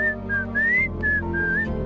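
A person whistles a short melodic phrase nearby, clear rising and falling notes in a few separate bursts over a low background rumble.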